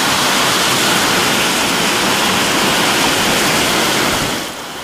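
Heavy rain pours on a flooded stretch of EDSA Magallanes, a dense, loud, unbroken roar of water that eases slightly at the very end.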